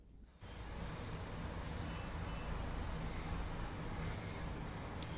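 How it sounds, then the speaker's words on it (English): In the Train Sim World 2 game, a train running on the Catchcart Circle route gives a steady broadband rumble that starts abruptly. A thin, high sustained squeal from the rails runs over it, with no talking. "We can hear some rail squeal in here now."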